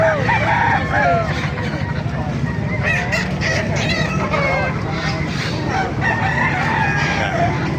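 A busy crowd of chickens and roosters clucking and crowing together at a market in Baliuag, Philippines, several calls overlapping continuously amid market bustle and some distant voices.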